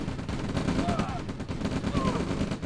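Rapid bursts of gunfire from OpenRA Red Alert skirmish fill the clip, a dense, steady clatter of small-arms and machine-gun shots that runs continuously at a fairly loud level.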